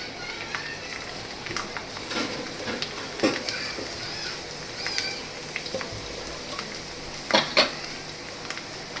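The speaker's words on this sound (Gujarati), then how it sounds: "એટલે એ મંડે ને તડતડાટી થવા પછી આગળની પ્રોસેસ કરીએ આપણે." Garlic, cloves and cinnamon crackle in hot oil at the start of a mixed vegetable sabji: a low steady sizzle broken by sharp, irregular pops and a few light utensil clinks.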